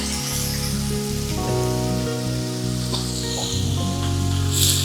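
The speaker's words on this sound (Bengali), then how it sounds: "পেঁয়াজটা ভাজা ভাজা হোক" Steady, close sizzling of onions and potatoes frying in hot oil, a continuous crackling hiss with a low hum underneath.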